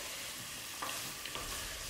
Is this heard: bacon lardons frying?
yes